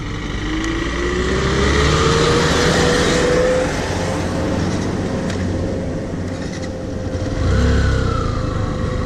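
A motorbike rides along a dusty rural road, its engine droning steadily and rising in pitch as it speeds up, with a loud, continuous rumble and no voices.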